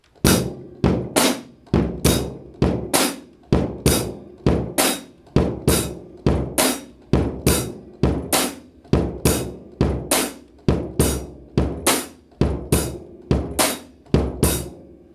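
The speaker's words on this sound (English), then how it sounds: "if I play it with one bass drum," A drum kit plays a basic shuffle with a single bass drum, a steady, loud, swinging pattern of evenly spaced hits running throughout.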